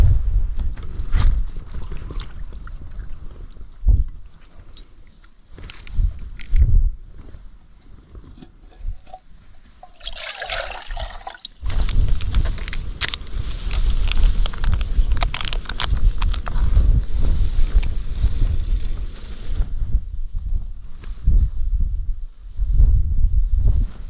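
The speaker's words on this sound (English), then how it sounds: "That wind's freezing." Cold, strong wind gusts buffet the microphone at a Lake District campsite on a cloudy day, a loud low rumble that roars on and off, with brief rustling and handling sounds between gusts.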